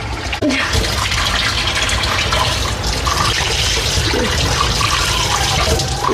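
Water gushes and sputters from a tap with air trapped in the pipe after the pump motor sat unused. It is a loud, continuous, splashing rush with a brief gurgling hitch near the start, and no talk.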